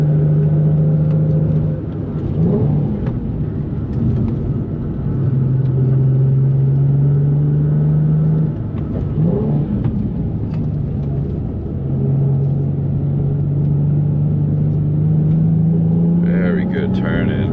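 A 2004 Nissan 350Z pulls uphill in fourth gear at around 3,500 RPM, its engine droning steadily from inside the cabin with slight rises and dips in pitch, while someone talks over it.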